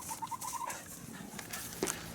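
Chickens on a farm pasture clucking faintly, a short run of soft repeated clucks at the start and a brief squawk later, set against low outdoor background noise.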